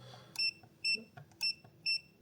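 Four short, high electronic beeps from a UNI-T UT122 multimeter's continuity buzzer in a steady repeating pattern, each about a tenth of a second, with faint clicks and background noise between them.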